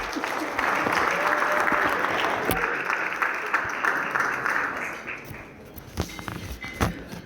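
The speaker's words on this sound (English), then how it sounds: "Let's please give a big round of applause for Oren and Diane." A crowd at a Torah scroll dedication ceremony applauds for Oren and Diane, sustained clapping with a few sharp knocks and thumps, easing off toward the end.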